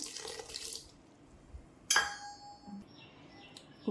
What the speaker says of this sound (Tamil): இது கூட இந்த புளி கொஞ்சம் கரைச்சி வச்சுருந்தேன் அதையுமே ஊற்றிக்கிறேன்